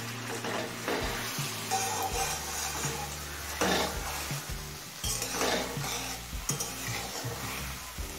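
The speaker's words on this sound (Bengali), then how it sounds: "এবার আলতো করে একটু নাড়াচাড়া করে নেব।" Taro stolons cooking in a pan are gently stirred, soft scraping and shuffling strokes over a continuous moist sizzle, close and steady.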